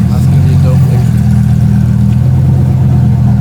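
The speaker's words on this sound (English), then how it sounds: "And they're revving already." Car engines rev loudly and steadily at a late-night Los Angeles street meet with Lamborghinis, a deep continuous rumble that fills the whole stretch and carries no distinct vocal layer on top.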